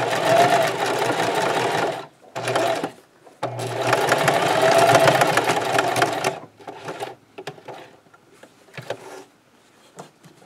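A domestic sewing machine stitching a scrub cap, loud bursts of running motor broken by pauses, then scattered clicks and light handling sounds as the stitching stops.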